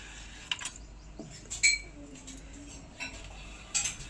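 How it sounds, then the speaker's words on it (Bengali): A knife slices a peeled cucumber into pieces on a board in a home kitchen. Soft, faint taps and light clinks come at irregular intervals against a quiet background. "শশাটা খোসা ছাড়িয়ে নিয়েছি, এবারে পিস পিস করে কেটে নেব।"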